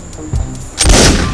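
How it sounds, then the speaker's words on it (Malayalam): A single loud blast bursts out and rolls into a broad, sustained roar, like distant army guns being test-fired, set against low background noise with no voices. "അതാ പട്ടാളം അവിടെ തോക്ക് ടെസ്റ്റ് ചെയ്യുന്നതാ."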